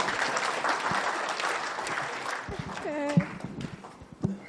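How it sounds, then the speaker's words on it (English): Audience applause at a regional conference fills the room as a steady, dense wash of clapping that thins toward the end, leaving a few scattered claps and faint voices. "ladies and gentlemen, to ask you to clap for me as I sit"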